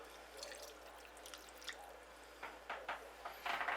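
Marinade poured over raw chicken gives a soft, close run of wet drips and squishy splashes, growing a little busier toward the end, with no talking.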